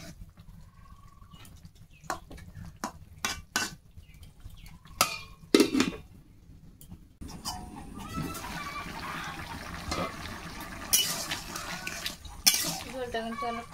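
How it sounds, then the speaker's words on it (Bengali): Curry of figs (dumur) and potatoes being stirred in a pot in a village Bengali kitchen, with scattered clinks of a spoon on metal, a lid clatter, then a steady bubbling simmer; a rooster and faint voices in the background. "নেড়ে ছেড়ে নিয়ে ঢেকে দেবো।"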